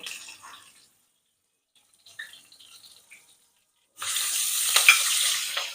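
Cumin seeds, asafoetida and green chilies crackle and hiss in hot oil in a home kitchen, with short faint bursts of sizzling, a quiet gap, then a loud, steady fry that continues to the end.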